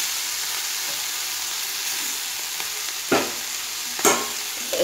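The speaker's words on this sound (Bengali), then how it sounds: "ঠিক এইভাবে চিংড়ি মাছগুলোকে ভাজতে হবে, এখনো ভাজা হয়নি, আরো ভাজা হবে।" Shrimp sizzle in oil over a gas flame with a steady close hiss, broken by two or three brief scraping stirs near the end, no one talking.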